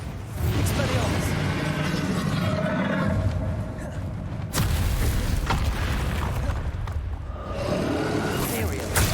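Bombarda explosion spell cast in Hogwarts Legacy, a loud roaring blast with booming rumble and crackling bursts that swell and fade over several seconds, with voices talking over the din.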